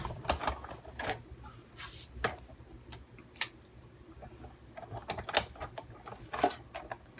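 A manual die-cutting machine cranks a gray granite card piece and a lace die through, giving quiet, irregular ratcheting clicks and mechanical ticks spread across the stretch, with no talking.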